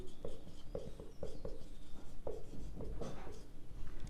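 A pen writes a journal entry by hand on paper, making short scratchy strokes in an irregular rhythm, quiet and close.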